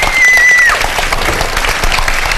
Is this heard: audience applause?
yes